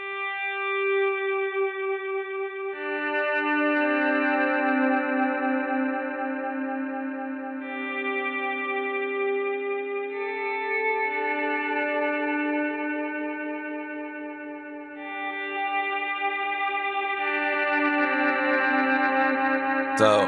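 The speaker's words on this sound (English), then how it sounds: "I use a swell, and I have the Mooer on there right now." Guitar volume swells through a Mooer pedal, sustained chords fading in smoothly without attack and layering with echo and chorus-like shimmer, changing every few seconds, clean and steady with no talking.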